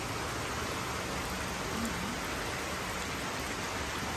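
Steady rain falls outdoors as an even, continuous broadband hiss with no breaks, loud and close, with no voices.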